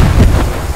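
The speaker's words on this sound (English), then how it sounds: "AT gun." A PaK 38 anti-tank gun fires in the World War II shooter Post Scriptum, a single loud, deep boom rolling out like thunder in one short burst.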